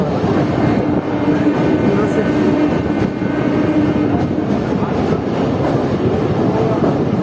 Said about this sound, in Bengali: দেখতে পাচ্ছেন আপনারা নসিপুর ব্রিজ আমরা ক্রস করছি আজিমগঞ্জ কাশিমবাজার মেমু প্যাসেঞ্জারে